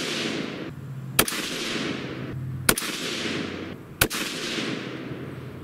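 Three sharp, loud rifle shots from a scoped rifle fired in a 10-shot group at a range, spaced roughly a second and a half apart, each with a brief echoing tail and no speech between them.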